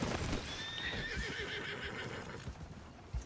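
A loud horse whinny in the video game Red Dead Redemption 2 rises and wavers for a couple of seconds over thudding hoof clops, close and full.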